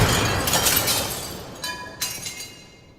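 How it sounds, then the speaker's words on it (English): Glass shattering as a sound effect, a loud crashing burst followed by tinkling shards and a second smaller crash, fading out at the end. "I just grab this again, this glass breaking thing, like I went through some glass"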